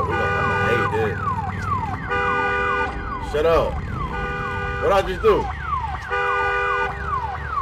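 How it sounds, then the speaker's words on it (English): Car alarms blare in the video game Days Gone, a loud cycling pattern of repeated rising and falling electronic wails that overlap one another, with someone talking briefly over them. "So, this the one with the freaking car alarms too."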